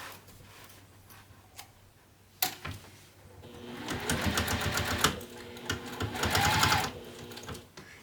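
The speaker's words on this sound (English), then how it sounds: "we're going to top stitch on our top panel, catching that seam allowance and securing it" A sewing machine top stitching the top panel of an apothecary bag, running in close, loud bursts of rapid mechanical stitching with brief pauses between runs.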